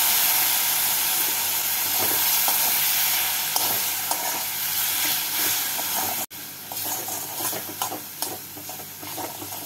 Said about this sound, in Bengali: এবার এর মধ্যে জল দিয়ে মশলাটাকে পেঁয়াজ আর টমেটোর সাথে কষিয়ে নেব।